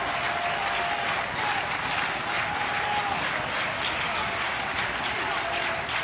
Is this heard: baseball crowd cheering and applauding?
yes